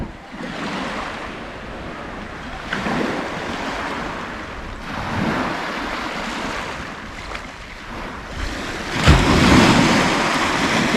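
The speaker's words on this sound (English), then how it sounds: "It's the sea!" Sea waves break at the seaside at night, surging in repeated swells every couple of seconds with a louder crash near the end, accompanied by some wind buffeting the microphone.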